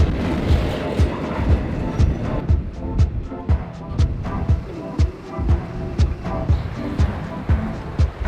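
A train rolls over a crossing, its wheels clacking in a steady, loud rhythm of sharp repeated beats over a dense rumbling bed, close by and continuous.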